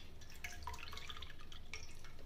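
Water drips and trickles as a soaked item is squeezed out by hand, scattered droplets falling in irregular bursts, close and fairly quiet with no talk.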